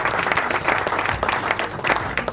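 An audience claps steadily at a Brazilian organ-donation race event, a dense, sustained round of applause close up with faint crowd murmur.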